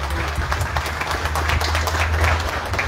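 Audience applause for an honoured employee at an awards ceremony, a steady, sustained wash of clapping from a crowd over a low, constant hum, continuing without pause throughout.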